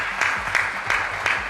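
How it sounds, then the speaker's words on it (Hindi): A studio audience at a televised election debate for the Khujji constituency in Rajnandgaon gives a short, evenly timed burst of clapping, four crisp beats at a moderate, fairly quiet level. "कांग्रेस पार्टी से जोरदार ताली के साथ इनका स्वागत करेगा।"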